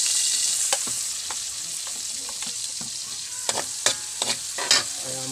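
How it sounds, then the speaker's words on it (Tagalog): Garlic fries in a pan with a steady, bright sizzle throughout, punctuated by sharp spoon-against-pan stirring clicks that grow louder and more frequent toward the end. "Kailangan natin maluto yung bawang."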